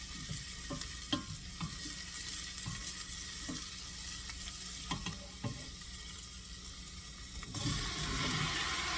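Garlic sizzles softly in a frying pan, with scattered clicks and scrapes of stirring over a steady quiet hiss and a brief louder wash near the end.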